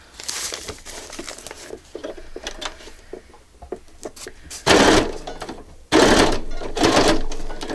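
A sewing machine runs a straight stitch across a soft-packing journal cover, with close, loud bursts of rapid needle clatter separated by pauses, rustling and crinkling of materials between runs.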